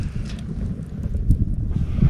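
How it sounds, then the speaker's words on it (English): Strong, cold night wind at high elevation in the desert of Joshua Tree National Park, recorded outdoors as a steady low rumble buffeting the microphone, with no voices. "It's crazy windy."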